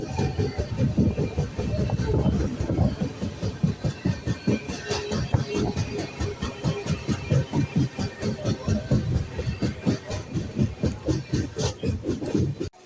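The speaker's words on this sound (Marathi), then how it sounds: "आता मी आलोय पुणे जंक्शनवरती." A train rumbles past at Pune Junction with a rhythmic clickety-clack of wheels, loud and close, with steady hiss and station bustle underneath.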